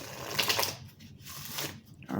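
Intuitive oracle cards being shuffled by hand during a tarot reading, a soft papery rustle that runs underneath a person speaking throughout.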